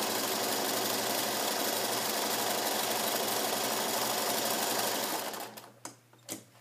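A vintage sewing machine runs a steady, close, continuous whirr while stitching a 1/4-inch seam allowance down a side seam, then stops near the end, leaving a few brief knocks and clicks.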